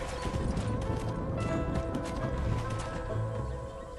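Horse hooves clip-clop at a steady gallop in the Western video game Red Dead Redemption, close and continuous over low ambient noise, with no voices.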